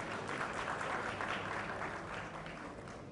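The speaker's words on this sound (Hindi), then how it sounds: "तालियां।" Steady crowd applause at the inauguration of an e-governance conference, dense and even, holding at a constant level for a few seconds with no voices breaking through.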